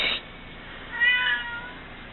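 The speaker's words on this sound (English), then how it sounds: "There's my cat." A house cat meows once in a craft room, a short clear harmonic call rising midway through and fading, fairly close and moderately loud over a quiet background.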